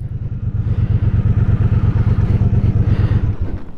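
A 2021 Triumph Speedmaster motorcycle engine runs steadily in a loud, close, rhythmic low chug with a constant pulsing beat and no talking.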